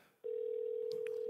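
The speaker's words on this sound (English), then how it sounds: "It's a Rory name on the call ID" A phone sounds with an incoming call: a steady single electronic tone starts abruptly and holds, with faint clicks and chirps over it, close and clear.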